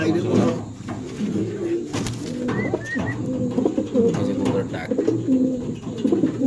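Black velvet shield pigeons coo steadily through the whole stretch, close and fairly loud, with soft rustling and background chatter from people nearby.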